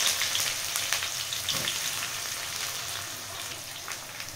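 Thinly sliced onion with cumin frying in hot oil for a chicken fry, a steady close crackling sizzle with scattered pops, fading slightly as it settles.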